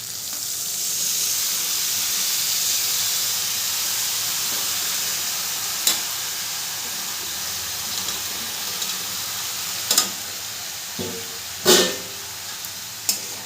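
Boiled banana flower being stirred and fried with potatoes and spices in a pan for a Bengali vegetarian dish, a steady close sizzle broken by several sharp scrapes and knocks of the spoon.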